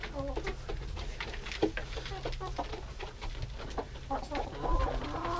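Chickens clucking and pecking inside their coop after breakfast, a busy flock with soft overlapping clucks and scattered short calls, close by amid low background noise.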